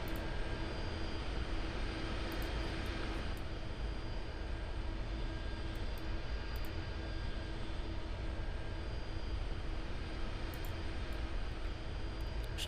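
A Roblox Aeronautica airliner taxis off the taxiway at an airport, its engines a constant, even roar with a thin whine on top, steady and close throughout with no voices.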